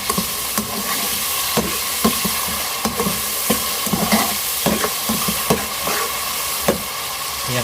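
Chopped tomatoes frying in a pan, with a dense close sizzle under a regular rhythm of scraping stir strokes, about one every half second, and no voices.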